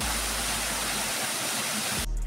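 Water pours steadily over rocks like a small waterfall, a loud broadband rush that cuts off abruptly near the end.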